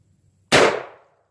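A single Aguila 12 gauge mini buckshot shotgun round fires outdoors as one sharp, loud blast that decays over about half a second.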